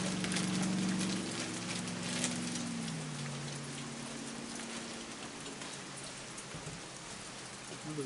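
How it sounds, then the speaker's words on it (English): Steady rain falls at night outdoors, a dense constant hiss of drops on surfaces near raccoons, with a faint low hum fading in the background and no clear talk. "well, it's raining, mister. It's raining."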